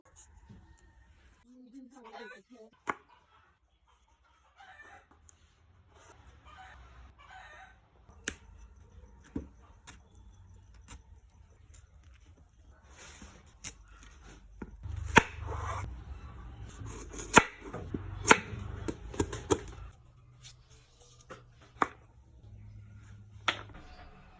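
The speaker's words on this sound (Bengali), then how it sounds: "এরপর হচ্ছে সবগুলো সবজি খুব সুন্দরভাবে কেটে কুটে নিব" Runner beans and cauliflower are cut on a board, knife chops landing in irregular sharp taps, thicker in the middle stretch, under a voice talking in Bengali with faint clucking fowl in the background.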